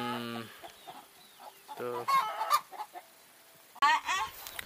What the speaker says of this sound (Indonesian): Rupanya banyak ayamnya nih.